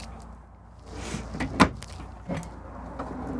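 A drawer slides open in the kitchen of a 2023 Winnebago Ekko 22A camper van, with a short sliding rattle and a sharp knock at close range, then a softer second bump.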